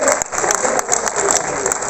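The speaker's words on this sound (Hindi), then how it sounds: "तालियां जोरदार आती है अगर आप बढ़िया से शुरू करते हैं।" Dense audience applause at a Holi-special comedy poetry gathering (hasya kavi sammelan) in Lucknow, a steady wash of many hands clapping with a few sharper claps standing out, loud and continuous throughout.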